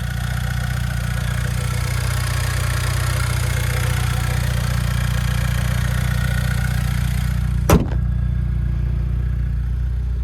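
A 2026 Ford EcoBoost Mustang's 2.3-liter turbo four-cylinder idles with a steady, loud low hum, broken near the end by one short sharp click or thump.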